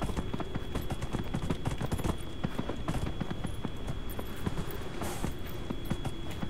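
Rapid, steady hoofbeats of a horse in Dragon Age: Inquisition pound continuously at a gallop, with a constant thin tone running underneath.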